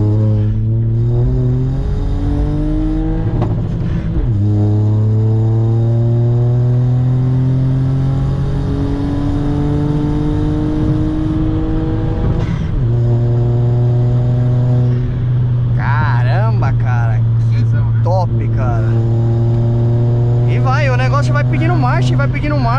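A tuned Volkswagen up! with a stage 3 remap accelerates hard through the gears on a drive, engine pitch climbing loudly then dropping at each shift, with crackling pops near the end and people talking inside the car.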